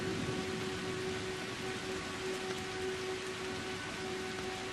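Steady rain hisses without a break, a dense even wash of falling water with a faint hum beneath and no voices.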